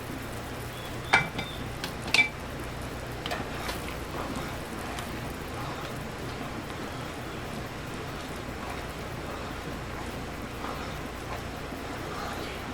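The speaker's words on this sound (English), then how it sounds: "Just keep stirring it." Concord grape jam being stirred in a pot on the stove, a faint continuous bubbling and scraping texture with a couple of brief clinks of the spoon early on, no talk.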